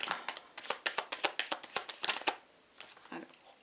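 Playing cards are shuffled by hand in quick, crisp riffling bursts for about two seconds, followed by a few softer, sparse card sounds as cards are drawn, all close and clear.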